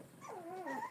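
A noisy puppy whimpers and yips in a single short, close, rising and falling whiny vocalization.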